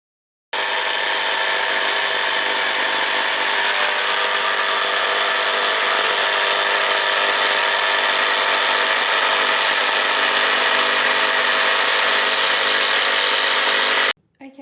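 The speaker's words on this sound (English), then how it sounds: "Okay, so the jigsawing is finished." Jigsaw cutting wood for an upcycled DIY plant stand, one loud continuous buzzing run of about fourteen seconds that stops abruptly at the end.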